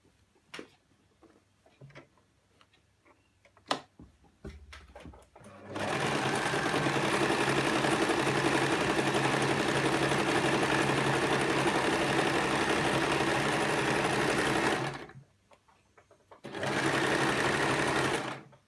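A sewing machine stitches fabric ruffles onto a skirt in one long steady run of about nine seconds, then a shorter burst after a pause, preceded by quiet handling noises and brief speech.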